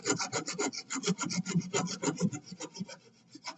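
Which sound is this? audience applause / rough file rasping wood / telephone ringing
rough file rasping wood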